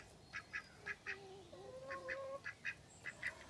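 A goose gives a rapid series of nasal honks and cackles in short bursts, with a longer drawn call in the middle, fairly close but soft against quiet outdoor background.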